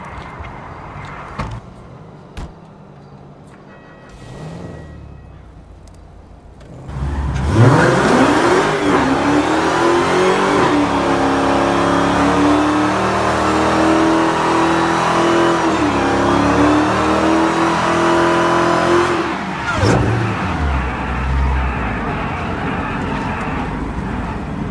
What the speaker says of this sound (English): Just got my Hellcat, so I'm going to do a little test drive.